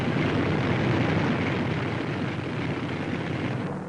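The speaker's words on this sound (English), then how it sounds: "More than 175 giant Liberators streaking across the Mediterranean, and not an enemy plane in sight." A fleet of more than 175 B-24 Liberator bombers flies over the Mediterranean, heard as a loud, steady, dense engine roar that holds throughout with no voices.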